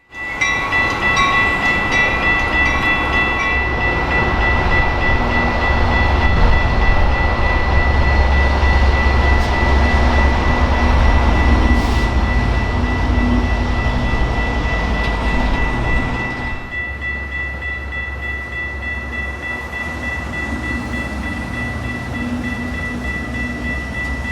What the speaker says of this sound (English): Immediately following the first SD70MAH sighting was an interesting consist including an F59 PHI and regular F59 PH.